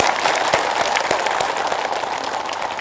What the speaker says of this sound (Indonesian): kepada seluruh jemaah tepuk tangan dulu semuanya luar biasa